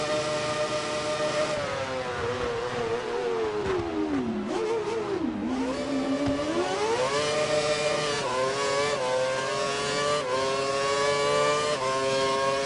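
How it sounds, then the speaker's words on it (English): Race car engine from the F1 2012 video game at Korea International Circuit, Yeongam, holding a loud sustained high whine that dips in pitch around the middle of the clip and then climbs again as the car revs back up. "His engine's still holding up."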